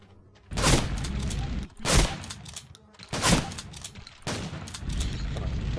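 Shotgun blasting in the shooter game Blade of Agony, four loud booming shots spaced about a second apart, each with a short rumbling tail, no voices over them.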